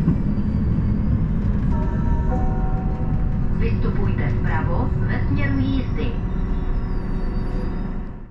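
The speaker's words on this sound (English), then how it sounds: "Here we have yet another oncoming train" Rumbling rail noise of an oncoming train passing close by a RegioSpider railcar heading toward Liberec, a steady loud roar with a brief rise in clatter partway through.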